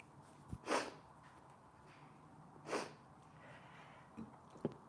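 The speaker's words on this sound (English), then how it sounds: "Sorry, had to sneeze." Two sharp, breathy sneezes about two seconds apart, close by, with a quieter sniff or snort near the end.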